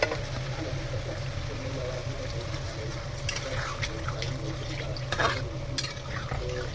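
A little water goes into a pot of simmering vegetables (potato, mushroom, tomato, onion) for a prawn curry. Steady sizzling and bubbling continue throughout, with a few soft clinks and splashes partway through.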